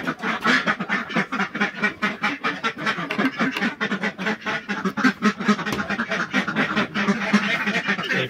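A flock of ducks inside their duck house on a farm, close and loud, quacking in a dense, rapid, overlapping chorus that continues unbroken.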